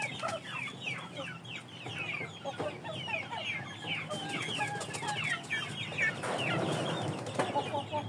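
Indio Gigante chickens, a very large, tall breed, cluck and chatter continuously at moderate distance, a dense overlapping flock sound with occasional wing flaps.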